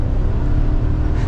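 A 6.2-litre V8 in a GMC Sierra 1500 Denali pickup truck revs at half throttle, giving a loud, steady low-pitched engine roar with a dense rumble that holds throughout with no talk over it.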